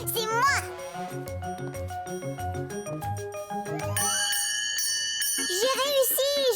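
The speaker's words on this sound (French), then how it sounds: "C'est moi qui vais faire sonner la cloche." Bell rung in a French children's cartoon: bright, ringing metallic tones over bouncy background music, with a voice nearby.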